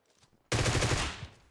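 Groza assault rifle firing in PUBG Mobile: a sudden loud sustained automatic burst of rapid shots lasting under a second and tailing off, after faint background murmur.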